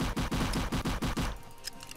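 Rapid automatic gunfire in a Roblox zombie apocalypse game, about seven quick bursts in a steady rhythm for over a second, then a few faint, sharp clicks and pings.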